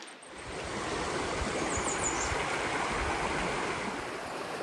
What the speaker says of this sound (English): Looking toward the river coming at you, or looking at the river as it goes away from you?